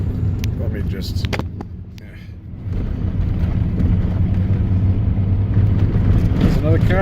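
A car passes on a steep mountain canyon road while riding in a Pontiac Fiero, a steady low engine rumble that swells louder in the second half, with a person speaking over it early on.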